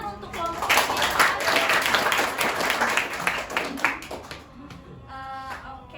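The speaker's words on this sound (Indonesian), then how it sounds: "kita kasih tepuk tangan untuk kelompok Bielva" Classroom students clap for a presenting group, a burst of mixed applause that builds and then tapers off, with voices talking over it and toward the end.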